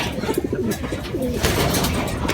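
Racing pigeons coo close by in a loft, several soft, rolling coos one after another with faint chirps and background noise.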